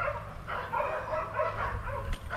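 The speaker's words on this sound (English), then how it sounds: "little neighbor dog." A neighbor's small dog barks in a quick run of sharp, high yaps close by, with brief pauses between bursts.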